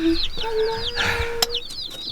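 Newly delivered baby chicks, shipped by mail to a farm, peep in a rapid, continuous chorus of high, overlapping calls close by, with a short sharp knock partway through.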